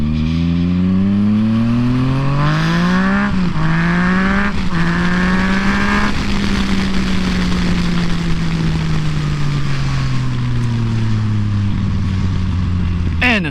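A 2014 Yamaha FZ-09 motorcycle, ridden and accelerating hard. Its loud, close engine note climbs in pitch, drops with quick gear shifts, then holds a sustained roar with wind noise.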